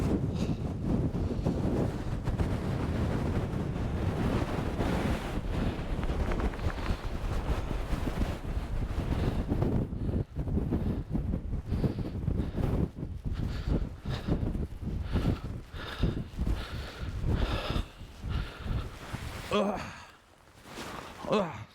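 Strong gusts of up to 50 mph buffet a coastal hillside at night, roaring continuously against the microphone and rising and falling in loudness, with heavy breathing and brief sighs close by.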